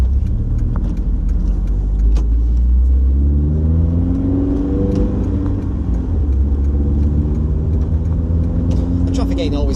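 A car rumbles along a road linking Dorset and Somerset, its engine droning low and steady with gear changes and small rattles, while someone talks over it throughout.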